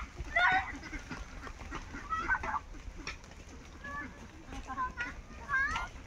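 Ducks being herded to a river near a rural homestead give scattered quacks and honking calls at low to moderate level, mixed with people talking nearby.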